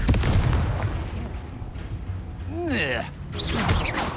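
In the video game Hogwarts Legacy, the Confringo spell sets off a booming, explosive blast amid combat rumble, loud and close, followed by a shouted voice with a ringing echo.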